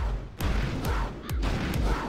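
A Gatling tank in a strategy video game fires heavy booming shots, about four spaced blasts, each with a low thudding tail, fairly loud and near.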